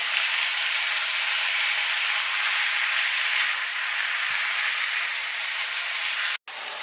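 Ground meat for cheeseburger lumpia fries in a pan with pepper, giving a steady, close, hissing sizzle that runs unbroken throughout, with no speech.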